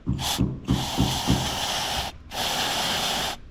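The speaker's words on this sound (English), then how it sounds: "We spray it on there and it'll dissolve all of the gunk." Chain cleaner sprayed onto a bicycle chain from an aerosol can, heard as close, loud hissing bursts, a few short puffs followed by two long sustained sprays with a brief pause between them.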